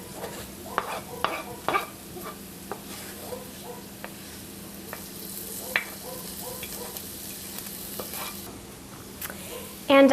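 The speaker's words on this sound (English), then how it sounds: "what I'm going to do is add my onions, shallot, and garlic that we sauteed previously" Onions, shallot and garlic go into a pan with seared tempeh, giving a steady sizzle and frying hiss with scattered stirring scrapes and a few clinks, fairly quiet throughout.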